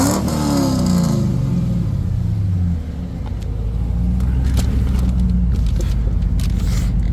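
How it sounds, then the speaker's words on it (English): A 2001 Pontiac Trans Am WS6 with an LS1 V8, long tube headers, high flow cats and a Magnaflow exhaust revs loud and close, a deep rumbling blip that sweeps up and falls, then settles into a steady throaty idle. "Give it a little revvy for you."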